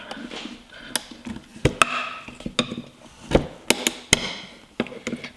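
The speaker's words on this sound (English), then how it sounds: "So I'm just using a flathead screwdriver and a few picks" A flathead screwdriver and picks pry at a brittle plastic shifter part in a Mini Cooper interior, giving irregular sharp clicks, taps and snaps close by, with no voices.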